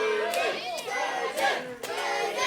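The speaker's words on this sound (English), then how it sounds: "The crowd getting behind Duggan as they need to." A live wrestling crowd in Southend cheers and shouts for Danny Duggan during a Wrestleforce world title match against Voodoo, with a steady roar rising into several loud surges.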